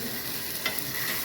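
Ingredients dropped into hot oil fry with a steady broadband sizzle, close and continuous, with a couple of brief stirring scrapes partway through and no talking.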